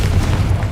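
Confringo fire spell explosion in the Hogwarts Legacy video game, a short loud deep boom with a rumbling low end filling the whole moment.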